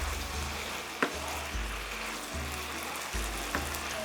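Rice and liver frying together in a pan, a continuous close sizzle with a low hum underneath and a few sharp clicks and scrapes from stirring, no voices.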